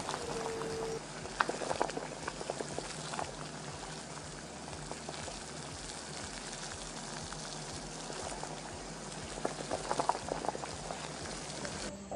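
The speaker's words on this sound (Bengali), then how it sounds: "চাউমিন সিদ্ধ হয়ে এসেছে" Chow mein noodles boiling in a pot of water for chicken chow mein, a steady bubbling simmer throughout with occasional stirring clinks, close and moderately loud, no voices.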